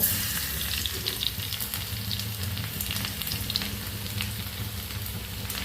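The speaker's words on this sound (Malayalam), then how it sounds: "പിന്നെ വെളുത്തുള്ളിട്ടെടുക്കുകയാണ്" Garlic frying in hot oil in a pan after mustard seeds, a steady close sizzle with small crackles and faint stirring, no talking.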